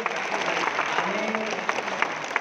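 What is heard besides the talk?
audience applause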